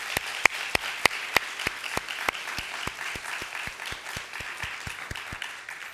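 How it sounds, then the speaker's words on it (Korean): A church congregation applauds its choir with a rhythmic unison clap, sharp, evenly spaced beats over a wash of scattered clapping, fading slightly toward the end. "우리 찬양대를 위해서 다시 한번 격려와 위로의 박수 드리겠습니다."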